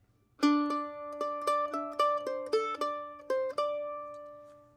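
A single mandolin picks a short phrase from a tune, roughly ten crisp plucked notes in an even rhythm that settle on a held, ringing final tone, played up close with no voices.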